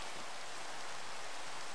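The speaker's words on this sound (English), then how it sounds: "And it's raining out." Steady rain in the video game Minecraft, an even, continuous hiss of falling water with no breaks, soft and constant throughout.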